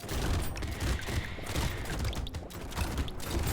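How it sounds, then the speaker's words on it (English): Rapid clustered shotgun blasts from flying enemies in a video game, a dense, continuous barrage of gunfire-like bursts at steady loudness throughout. "Flies with shotguns kind of suck, huh?"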